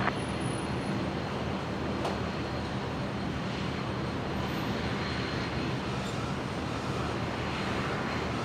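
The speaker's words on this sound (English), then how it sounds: "The Fly Dock Beach King Air heading off there to St George" A Beechcraft King Air turboprop departing Brisbane runway 01 right makes a continuous broadband engine roar, steady and fairly distant, with a faint tonal hum and no voices over it.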